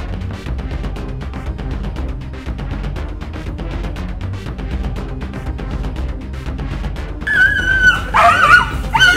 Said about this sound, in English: The dogs and them going crazy because they're actually smelling the Agouti.